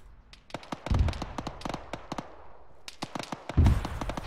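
Rapid bursts of rifle fire during a convoy ambush in the military game Arma 3, sharp cracks in quick irregular strings with two heavier booming shots, fairly close and loud.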